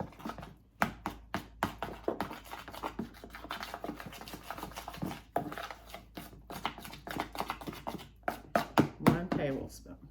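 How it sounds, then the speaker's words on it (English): Baking powder being stirred into sweet potato bread batter, a steady run of close scraping, tapping strokes against a bowl, with a voice talking quietly underneath. "stir in a tablespoon of baking powder"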